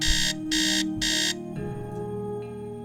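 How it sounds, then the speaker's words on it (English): An alarm clock in a Nancy Drew game rings in three loud, evenly spaced electronic bursts, then stops and leaves a quiet hum. "I'm gonna go ahead and set the alarm for 2 p.m."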